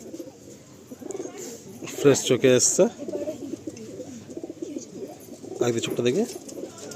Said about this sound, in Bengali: আপনারা পরপর যে 3টে পায়রা দেখলেন কালাঙ্কা পায়রা